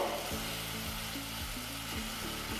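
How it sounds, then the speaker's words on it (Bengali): Yogurt being stirred and fried in a pan for prawn malai curry: a constant soft sizzle with repeated scraping strokes of a spoon against the pan, close and fairly quiet. "টক দইটা দিয়ে এটাকে আমি খুব সুন্দর করে একটু নেড়ে চেড়ে"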